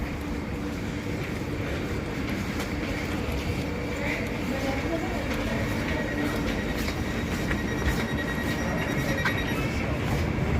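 A steady rumbling roar of a moving train fills the whole stretch, constant and close, with faint voices blended into the noise.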